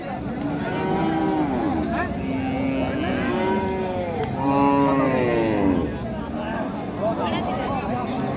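Cows and calves lowing at a cattle market selling local-breed cows with calves, several drawn-out moos overlapping close by, with crowd chatter and market bustle throughout.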